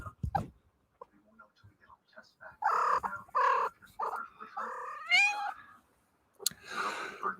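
A cat meows several times, drawn-out, close-up calls mixed with a person talking to it.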